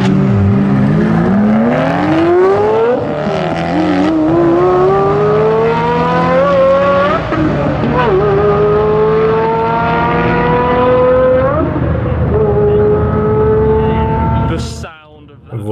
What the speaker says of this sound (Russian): Но эта Pagani одна из лучших, а звучит она невероятно. Один из лучших звуков V12.